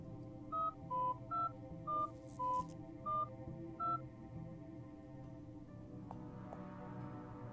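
Keypad dialing tones in the Fran Bow video game: seven short, evenly spaced electronic beeps at varying pitches over a low ambient music bed, followed by quieter game sounds, with no talking.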